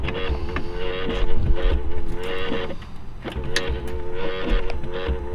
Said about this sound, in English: Oops, I hit the wiper.